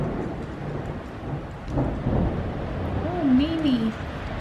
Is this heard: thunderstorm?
yes